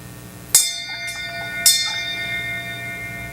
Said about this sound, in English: I would like to ring the bell for Jamie Guttenberg.